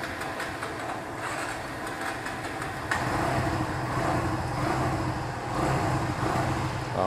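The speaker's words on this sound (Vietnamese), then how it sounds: "mình nổ máy cho anh em nghe cái máy nha" Kawasaki W175 SE classic-style motorcycle starting up and settling into a steady, smooth idle close by, a continuous mechanical hum without talking.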